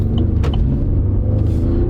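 V6 truck engine idling with a deep, close rumble, its note rising a little as the gas pedal is pressed.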